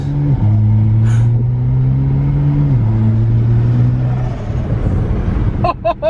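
A BMW 335is with upgraded turbos and an N54 engine drones steadily with pitch shifts, then a brief sharp whoosh of turbo blow-off bursts near the end.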